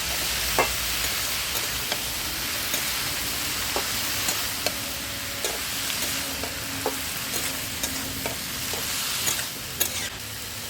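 Tomato, green chili and fish being sautéed in a pan give a steady sizzle, with scattered spoon scrapes and stirring knocks at an irregular pace close by, and no voices.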